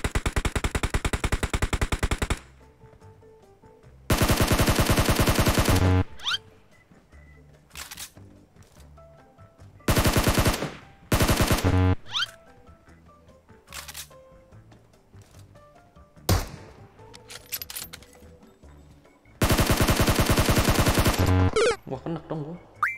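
Automatic gunfire from a PUBG-style mobile battle royale game in several loud, dense sustained bursts of two to three seconds, interspersed with single sharp shots and quieter gaps.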